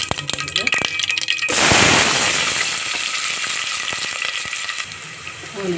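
Onions drop into hot oil with popping mustard seeds for a fish curry base, bringing a sudden loud sizzle that settles into steady frying, with crackles and spoon clinks before it and a voice faintly in the background.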